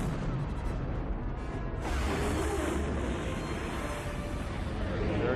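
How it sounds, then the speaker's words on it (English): An explosion effect from the original Star Wars trilogy rolls as a dense, sustained roaring rumble with crackling debris, swelling louder partway through and holding steady to the end. "This is one of the more beautiful explosions, I think."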